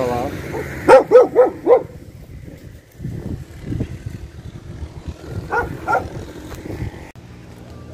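Outdoors at night, a dog lets out a quick burst of four barks, then a couple more a few seconds later, while people talk nearby.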